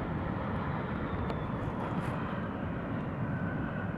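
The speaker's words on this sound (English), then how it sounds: "Looks like we got our Delta, little regional guy coming in." A Delta regional airliner arriving at Austin airport, heard as a steady, fairly loud broadband jet roar that holds evenly throughout with no talk over it.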